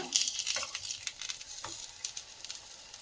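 Aloo tikki potato patties frying in oil over a medium flame, a faint, crackly sizzle with light scattered pops and stirring clicks throughout.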